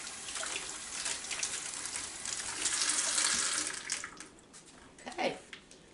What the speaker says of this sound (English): Anytime you handle raw meat, you want to make sure that you wash your hands good.